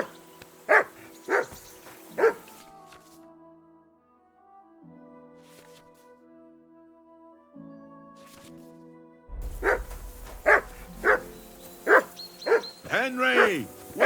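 A dog barks in the video game Kingdom Come Deliverance 2: a few sharp barks, then a quieter stretch of soft sustained tones, then another loud, close burst of barking that ends in a whining yelp.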